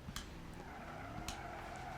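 A car skids with a drawn-out tire squeal over a steady engine drone, a couple of sharp bursts standing out, heard at moderate distance.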